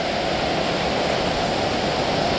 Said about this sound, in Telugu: మహత్తాగడ వాటర్ ఫాల్ అంట